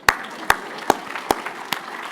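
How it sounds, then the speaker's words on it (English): A few separate, sharp hand claps ring out in a conference room, five distinct slaps spaced about every half second, sparse rather than a full crowd. "How about a round of applause for her jokes?"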